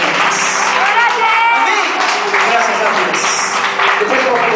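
A church congregation breaks into steady applause after a prayer, a dense wash of handclaps that holds throughout, with voices carrying over it.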